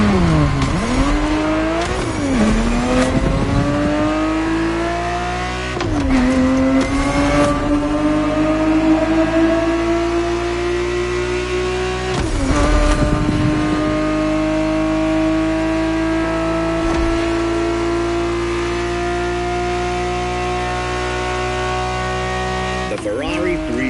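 Ferrari 365 GTB4 engine in The Crew Motorfest video game revs up in repeated climbing pulls, with sharp breaks at each gear change, loud and close, without speech.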